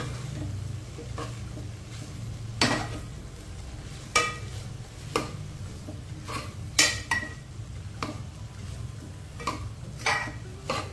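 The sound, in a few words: stirring masala mixture in a pan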